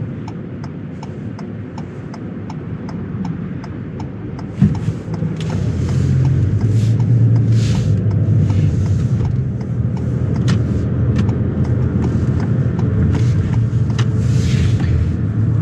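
A 2023 Ford Maverick drives along with a steady, loud road and engine hum inside the cab, a faint clicking running through the first few seconds before the noise swells and holds evenly.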